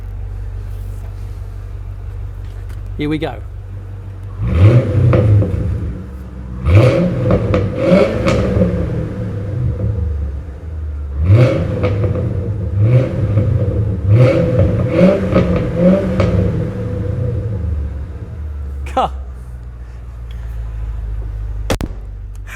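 A MG ZT260 V8 idles with a deep low rumble, then is revved in several rising, throaty bursts that fall back to idle, close and loud; someone speaks briefly.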